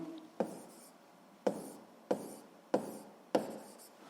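A pen writes out a physics solution with five sharp taps or strokes at roughly even intervals, each trailing into a soft scratch, quiet and close.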